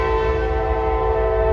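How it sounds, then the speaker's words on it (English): A passing train gives a loud, steady, sustained horn blast layered with a droning rumble, constant and close throughout the moment. "Trains coming by."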